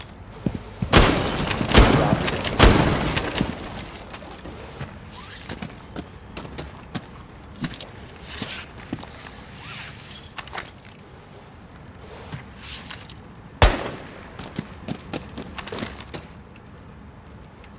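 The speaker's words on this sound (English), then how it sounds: "One person in bar shooting up at skylight." Bursts of gunfire inside Rainbow Six Siege's Kafe map, one player in the bar firing up at a skylight; loud clustered volleys early, then scattered single shots and a sharp crack later, with game noise between.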